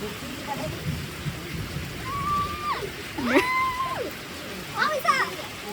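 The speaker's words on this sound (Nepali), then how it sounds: "पानी पर्दैछ नि त" Steady rain hisses outdoors on a mountain trek toward Sandakphu, a soft, even wash of falling water heard beneath nearby voices and high, sliding vocal calls.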